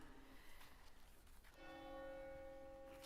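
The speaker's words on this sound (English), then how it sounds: "So I'll just wait for the bells." A church bell rings out before a choral Holy Eucharist service with a ringing, sustained tone after a quiet start, its resonance lingering steadily.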